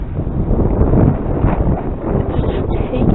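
Strong gusting wind buffeting the microphone while a T28 model plane flies on a very windy day, a constant low rumbling roar with fluctuating bursts and someone speaking faintly beneath it.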